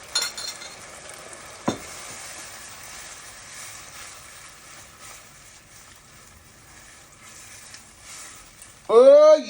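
A tinned fish pasta mixture tipped into a hot pot, giving a soft sizzle and stirring scrape with a sharp knock near the start, close by, ending in a brief loud burst of noise.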